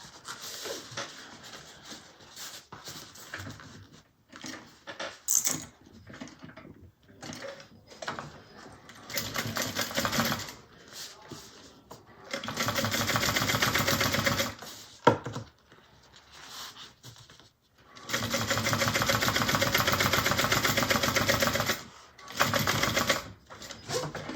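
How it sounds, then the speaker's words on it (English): A sewing machine top stitches a vinyl Mabella bag, running in rapid mechanical rattling bursts of varying length, some long and sustained, separated by pauses and small handling noises, close and clear. "now we're going to top stitch"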